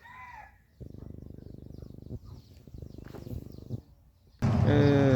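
Free-ranging chickens cluck in a rural yard at morning, a loud rooster crowing close by at the end, with low buzzy clucks in between.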